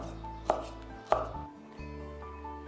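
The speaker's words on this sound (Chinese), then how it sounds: "腊肠切丁切片都可以，自己喜欢。" A knife chops through Chinese sausage (lap cheong) on a cutting board for pumpkin rice, with two sharp, close knocks followed by a softer third cut and faint kitchen hum between them.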